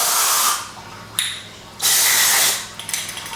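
Carb cleaner is sprayed onto the engine of a Husqvarna 54-inch zero turn lawn mower in short, loud hissing bursts, with a brief spurt between two longer blasts and a sputtering spray at the end.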